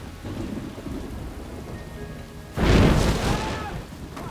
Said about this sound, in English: And then there was the rain.